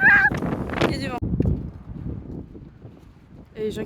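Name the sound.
wind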